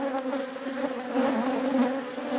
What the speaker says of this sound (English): Lots of bees on my microphone. I'm sure you can hear that.